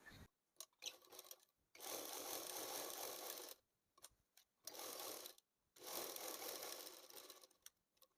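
Sewing machine stitching down the pocket of a pair of cigarette pants, running in three long steady bursts of close, moderately loud whirring separated by short pauses and small clicks of fabric handling.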